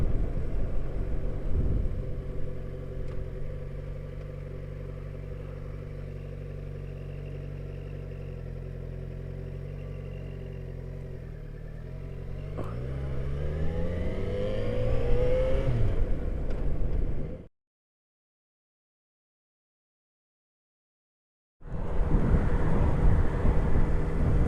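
Yamaha XJ6F motorcycle ridden on a run to the shops, its engine humming steadily with wind, then rising and falling through gear changes before a sudden silent gap and a return of engine noise.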